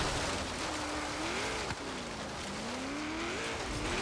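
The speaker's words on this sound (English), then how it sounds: "there's quite a bit of horsepower in this car, and you can kind of tell just by the way it's bouncing off the rev limiter" A 1995 Chevrolet Corvette ZR-1 in a hill-climb racing game, its engine loud and constant near the rev limiter, the pitch rising and dipping in waves with a brief tire-squeal-like sweep partway through.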